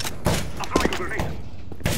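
Rapid gunfire bursts and thuds from a Counter-Strike match, sharp loud shots close together where a grenade is thrown, with a voice talking over them.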